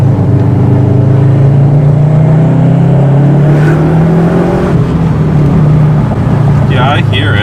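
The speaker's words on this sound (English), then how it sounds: "when you're driving like this, when you're sending it, do you hear like a whining noise?" A Subaru car climbs a hill under hard throttle, its steady engine drone topped by a thin, constant whine that shifts slightly in pitch as the car pulls up the grade.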